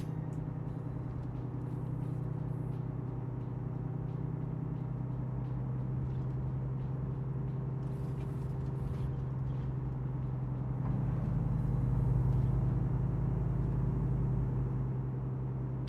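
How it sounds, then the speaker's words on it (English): Low, steady growling rumble of a truck engine brake in Euro Truck Simulator 2, droning continuously and swelling slightly louder toward the end, with no voices over it. "Whenever I use the engine brake on this motor, it sounds more like it's growling than anything."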